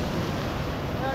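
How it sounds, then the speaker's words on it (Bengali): Sea waves break on the shore at Tajpur beach, a loud continuous rush and churn of surf mixed with wind buffeting the microphone. "বেলা ক্রমশ বাড়ছে, তো সেই কারণে ঢেউয়ের পরিমাণটাও বেড়েছে।"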